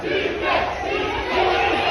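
A Flamengo football crowd roars and chants in ovation for new coach Tite, a loud, sustained wall of massed voices with a slight swell toward the end.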